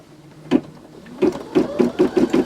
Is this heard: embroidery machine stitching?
yes